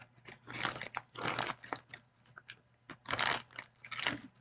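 Crunchy ring-shaped Ringolos potato chips bitten and chewed close up, a steady run of loud, dry crunches in several bursts with short pauses between.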